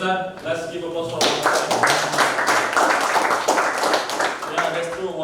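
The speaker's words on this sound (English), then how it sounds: "Let's give applause for" An audience at an embassy language and leadership training event breaks into brief applause, a burst of clapping lasting a few seconds in the middle, with people talking just before and after it.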